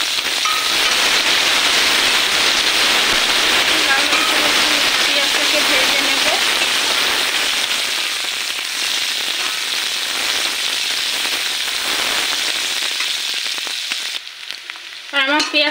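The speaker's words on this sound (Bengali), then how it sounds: "আমার পেঁয়াজটা দেখো লাল করে এই যে ভেজে নিয়েছি" Onions fry in a pan with a loud, steady sizzle, a dense crackling hiss that holds nearly unbroken before thinning out near the end, where a brief voice comes in.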